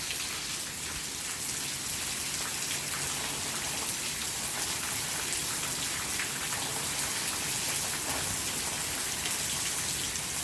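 Heavy rain pours steadily on a stormy night, a dense, constant hiss of drops striking surfaces nearby, loud and unbroken throughout with no voices.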